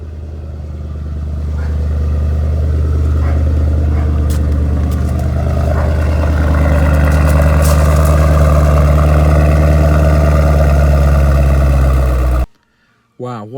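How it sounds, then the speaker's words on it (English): A car engine starts and settles into a loud, steady idle with a deep rumble that swells over the first couple of seconds, holds, then cuts off abruptly near the end. "So let's start the engine."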